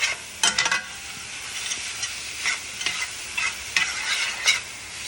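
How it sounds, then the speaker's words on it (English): A spoon stirs shepherd's pie filling frying in a pan, producing several scraping strokes over a steady sizzle, close and clear with no talking. "Now, I'm going to give this a stir."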